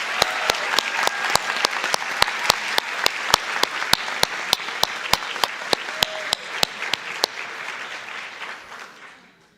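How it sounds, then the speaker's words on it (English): Steady applause for the athletes from the audience at a school board meeting, with several sharp nearby claps standing out in a regular rhythm before the sound tapers off. "can everyone give a big round of applause for all of our athletes for the great season this year?"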